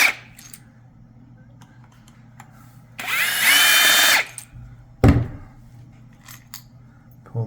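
A powered screwdriver backing screws out of the end of a vacuum cleaner motor, one loud whirring burst of about a second, followed by a sharp metallic clunk and faint handling clicks.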